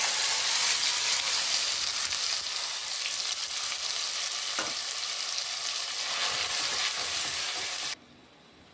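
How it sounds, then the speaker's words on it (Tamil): Curry leaves, cinnamon, cloves and masala fry in hot oil for a radish kulambu, giving a loud, steady broadband sizzle that holds for about eight seconds and then drops away abruptly. "கருவேப்பிலை பட்டை கிராம்பு போட்டுச்சு மசாலா போட்டுக்கலாம்"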